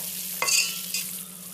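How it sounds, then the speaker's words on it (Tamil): Sugar syrup for Mysore pak bubbles in a pan over a high flame, a soft sizzling hiss with a couple of quick stirring scrapes. "பாவ கொதிக்கிறப்ப பார்த்தோம்னா நல்லா ஹை ஃப்ளேமில் வச்சே பண்ணலாம்"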